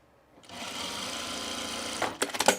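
Sewing machine stitching a pocket down on summer pants, a steady close whirring run of about a second and a half that ends in a few quick uneven bursts as the stitching stops and starts.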